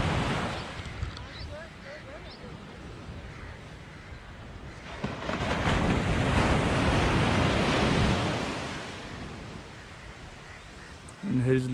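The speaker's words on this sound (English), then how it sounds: "This is Bogmalo beach." Ocean surf rolls in at Bogmalo beach in Goa, a broad wash that swells loud in the middle and then recedes, with wind buffeting the microphone and a sharp bump at the end.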